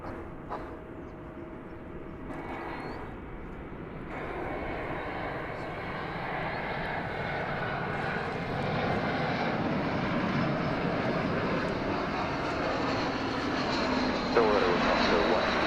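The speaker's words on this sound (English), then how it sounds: "We're about to see American Flight 1701 from Phoenix, Arizona, in Airbus A321." An American Airlines Airbus A321 jet arriving from Phoenix at Dallas Fort Worth airport, its engine roar building steadily louder and nearer, with speech over it.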